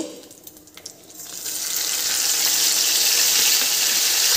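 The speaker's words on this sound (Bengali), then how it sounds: "ওই তেলেই দেব একটা ফোড়ন, গোটা জিরে, শুকনো লঙ্কা, দারচিনি, এলাচ, লবঙ্গ আর দুটো তেজপাতা" Whole cumin seeds, dried red chillies, cinnamon, cracked cardamom, cloves and bay leaves drop into hot oil. After a quiet start the oil breaks into a loud, steady sizzle that builds and keeps crackling, with no talking.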